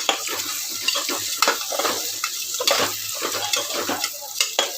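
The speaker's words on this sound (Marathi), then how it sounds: "मूग मसूरची डाळ आहे ती पण टाकूया. आपण मिक्स करून घेऊ." Moong and masoor dal, with soaked black peas, stirred in a sizzling pan: a continuous frying hiss with repeated scraping strokes of a spoon against the pan, close and fairly loud, with no talking.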